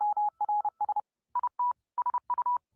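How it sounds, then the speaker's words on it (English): Bursts of short and longer Morse code beeps from a video game on a clean tone, grouped with pauses between them, loud and alone. "That beeping is Morse code"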